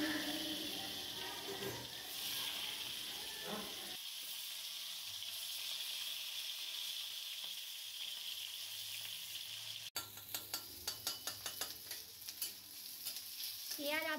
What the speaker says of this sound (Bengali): পেঁয়াজ অর্ধেক ভাজা হয়ে গেছে